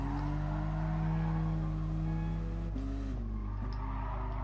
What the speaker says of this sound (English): You can really hear the turbo in this car.